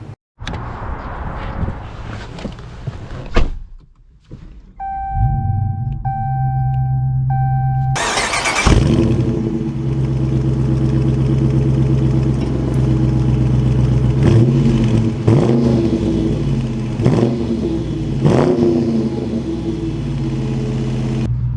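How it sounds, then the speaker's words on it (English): A 2022 Dodge Challenger R/T Plus with a V8 and automatic transmission starts with a loud burst, then settles into a deep, steady rumble that swells in several revving surges as the car drives off, heard from close by. "Okay, so setting off here in the Challenger RT Plus."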